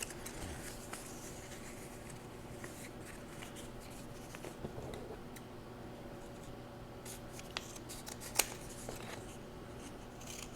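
Scissors snip through kinesiology tape during knee taping for runner's knee, a few soft, faint cuts over a quiet background hum with no talking.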